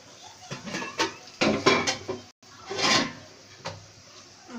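A lid set over a pan of rohu fish curry with potato and tomato, with a few sharp metal clanks and scrapes of pot and utensils, a short pause, then more knocks.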